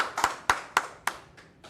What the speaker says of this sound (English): could we please have a round of applause for our speaker tonight, Gordon?